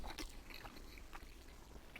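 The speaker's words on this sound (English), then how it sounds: "You can really hear the texture of the roast beef when I'm chewing it." Close, wet chewing of Arby's roast beef sandwich meat, with a few crunchy bites and soft mouth sounds repeating irregularly, quiet and alone without talk.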